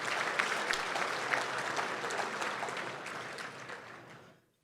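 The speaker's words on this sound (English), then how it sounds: "Let's have a big round of applause for all of you who have helped make that possible" Audience at a fundraising dinner applauds in a dense, full wash of clapping that holds steady, then fades out and stops abruptly near the end.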